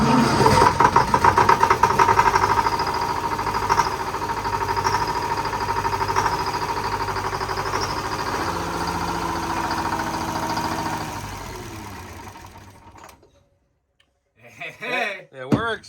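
A repaired houseboat motor runs steadily with a knocking idle for about twelve seconds, then cuts off, followed by brief voices.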